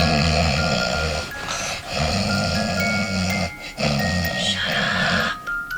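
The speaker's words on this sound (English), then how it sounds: "you're fucking snoring." Heavy snoring from a sleeper with a deviated septum, loud and close, rumbling in long rhythmic breaths with brief pauses between them.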